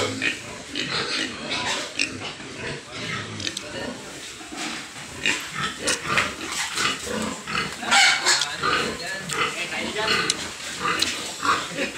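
A mother pig grunts and oinks while being loaded for transport, rough snorts heard close among people talking and general outdoor commotion.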